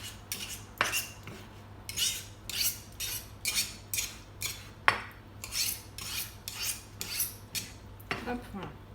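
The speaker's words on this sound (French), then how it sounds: "Je prends mes poivrons, je vais faire couper un petit peu." Bell peppers cut with a knife, a steady series of short crisp slicing strokes about one per half-second, close and fairly quiet, ending with a small clatter.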